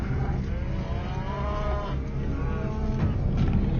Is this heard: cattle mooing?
yes